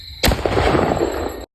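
A firecracker goes off in a village at night, a sharp loud bang followed by about a second of crackling, rumbling echo that cuts off abruptly.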